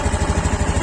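A Honda Beat Deluxe scooter engine revs briefly, a close, loud pulsing engine note with rapid, regular low thumps.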